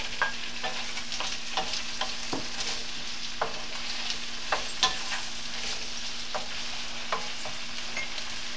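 Peas and potatoes fry in a pan for shingaras filling, a steady hiss broken by scattered clinks and scrapes of stirring, close and fairly quiet with no voices.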